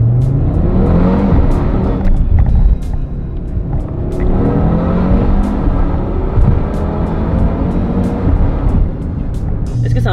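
An Audi RS3 engine and exhaust drone loudly from inside the car as gears are shifted with paddles, a continuous rough roar with small pops and crackles, no clear talk over it.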